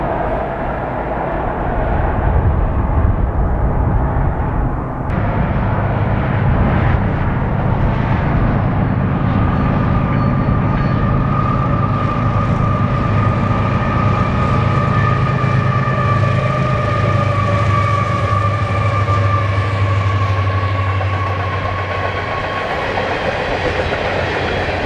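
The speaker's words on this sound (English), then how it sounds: "Our first train is seen passing the old grain elevators in Biggs." A long freight train hauled by Canadian locomotives and made up of hopper cars rumbles past old grain elevators in the Columbia River Gorge, a steady loud roar with wheel noise and a drawn-out tonal whine.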